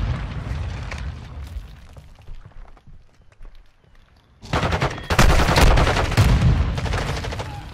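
Gunfire rattles in a Call of Duty Modern Warfare 2 ranked match: scattered shots early, a brief lull, then loud, dense bursts of rapid automatic fire close up.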